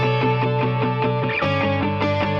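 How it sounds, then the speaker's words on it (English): Punk rock lead guitar, distorted and drenched in reverb, plays a loud, steady run of repeated chords and notes, its sound swept from side to side by automated panning, with no talking over it. "I'm also going to take a shaper box to this and automate the panning a little bit"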